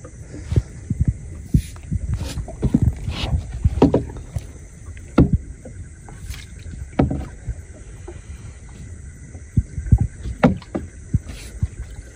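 A wooden boat is rowed alone across village water during a fishing trip, with rhythmic thuds and dull knocks of the oar every second or so over a steady background hum.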